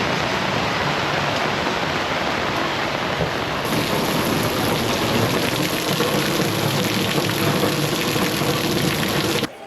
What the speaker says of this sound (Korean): 근데 큰일 났어요. 왜냐하면 비가 옵니다. 비가 와.